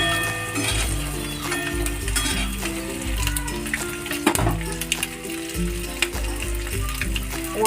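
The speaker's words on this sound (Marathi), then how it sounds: "गोल्डन ब्राउन असे फ्राय करून घ्यायचे," Eggs fry golden brown in a pan of oil for a dhaba-style egg curry, a loud, steady close sizzle with occasional stirring clinks, over background music.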